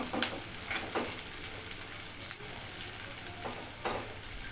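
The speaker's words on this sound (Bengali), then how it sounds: "এখানে আমি শুকনো মরিচ তেজপাতা পেঁয়াজ কুচি রসুন কুচি সব কিছু দিয়ে ব্রাউন করে নেব" Dry red chillies, bay leaf, chopped onion and garlic frying in hot oil, a constant close sizzle with a few spatula scrapes and stirs over a short stretch.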